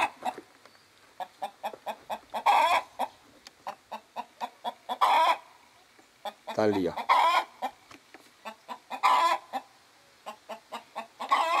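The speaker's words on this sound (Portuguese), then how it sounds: "Esse é o canto da galinha quando ela bota." A hen cackles loudly in rapid, repeated bursts just after laying an egg, with other clucks around her and a brief voice speaking over the noise.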